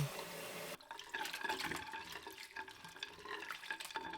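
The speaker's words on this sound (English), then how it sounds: "rinse them under cold water" Soba noodles are rinsed under a cold running tap, a steady close splashing stream of water that begins abruptly and continues with irregular gurgles and spatters.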